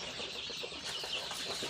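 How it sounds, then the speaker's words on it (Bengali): A farm flock of about 300 Sonali chickens clucking together; a dense, continuous chorus of overlapping clucks fills the short clip at an even level, with no voices. "আমার হচ্ছে সোনালী মুরগি, এখানে 300 পিস মুরগি আছে"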